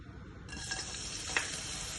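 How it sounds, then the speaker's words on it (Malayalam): Green chillies fry in a little oil in a pan, giving a steady, bright hiss with a few faint pops and crackles and no talking. "ഇച്ചിരി എണ്ണ ഇട്ടിട്ട് ഇനി ആദ്യം ഇടണത് ഈ എണ്ണയിൽ ഗ്രീൻ ചില്ലി"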